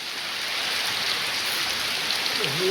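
Steady rain falling on trees, a continuous soft hiss of drops on leaves, fairly close and even throughout, with a faint brief tonal sound near the end.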